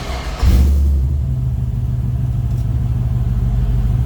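A fuel-injected 6-liter LQ4 V8 in a 1967 Chevrolet C10 pickup catches with a brief burst, then settles into a deep, steady idle rumble close by.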